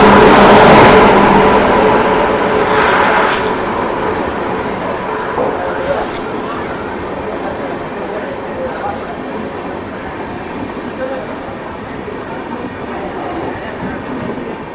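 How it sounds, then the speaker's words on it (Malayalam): Kannur–Yeshwantpur Express pulling into platform one at Vadakara railway station, a loud rumbling roll of wheels and carriages with clattering rail noise, strongest at first and easing slightly as it slows, with a brief squeal midway. "അപ്പോൾ ഇതേ നമ്മളെ വണ്ടി വടകര റെയിൽവേ സ്റ്റേഷനിലെ 1ാം നമ്പർ പ്ലാറ്റ്ഫോമിലേക്ക് വന്നുകൊണ്ടിരിക്കുകയാണ്"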